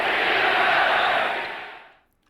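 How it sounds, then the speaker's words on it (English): Boston Garden crowd roaring in a dense, sustained wash of voices during a 1986 Celtics game, loud and steady before fading away over the last half second. "The crowd is starting to chant "Beat LA.""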